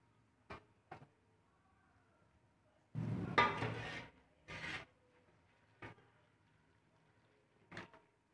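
A lid set onto a pot of mutton curry with tomato, potato and onion: a few light clicks, then a louder rattling clatter of the metal lid settling, followed by sparse soft knocks.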